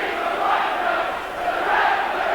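Large rugby league crowd at Warrington v Wigan jeering the referee, a loud sustained roar of booing and shouting that swells, dips briefly in the middle, then rises again, with no clear talk over it.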